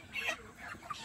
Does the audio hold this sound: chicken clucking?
yes